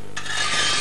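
A scythe blade rasps against a water-cooled grindstone, a continuous gritty scraping that begins abruptly and builds slightly louder as it goes, close by with no voices.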